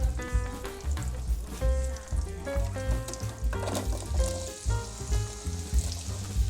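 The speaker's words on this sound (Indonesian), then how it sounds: "Masukkan butter. Tunggu hingga meleleh dan terdengar bunyi mendesis." Steady hiss and crackle of butter melting and sizzling in a frying pan, continuous throughout, with tonal music playing over it.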